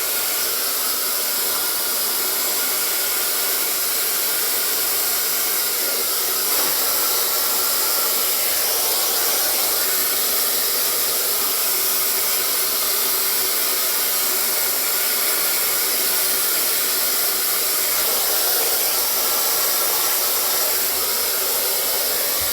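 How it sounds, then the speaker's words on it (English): A hair dryer blows steadily on hair being styled with a round brush, giving a constant, even, loud whooshing hiss throughout with no speech. "So we're going to blow dry it back, and we're going to turn and round off the brush to give it height and to give it volume."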